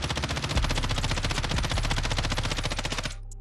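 Rapid automatic gunfire in the video game Warzone hits practice targets on a firing range, a continuous loud close burst of shots for about three seconds that then stops abruptly.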